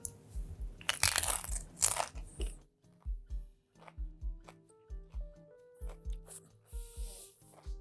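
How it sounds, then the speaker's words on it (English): Crunching into a tortilla chip loaded with pickle salsa: one loud crisp bite up close, followed by a steady run of rhythmic crunchy chewing. "let's take one of these chips and try this pickle Pickle de Gallo"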